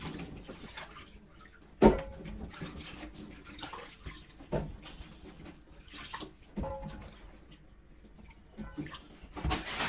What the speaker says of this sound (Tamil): இப்ப தண்ணி ஊத்தி கிழங்க கழுவி எடுப்போம்